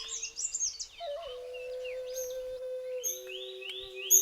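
Dwarf kingfisher country in the Ghats before sunrise, with a bird singing clear, bright whistles in a series of rising and falling phrases at moderate distance over a steady low background tone.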